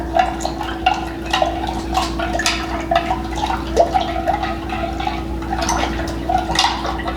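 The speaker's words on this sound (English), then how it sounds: "we're just gonna stir it, make sure it dissolves." A spoon stirs yogurt starter into A2 milk to dissolve it, making close, continuous wet swishing and dripping with soft irregular clinks over a steady background hum.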